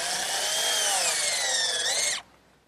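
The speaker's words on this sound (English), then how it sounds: "I'm just going to take a screw and partially drive it in to sort of give me like a pilot hole" A power drill partially drives a screw into wood to make a pilot hole, a steady close whine lasting about two seconds before cutting off abruptly.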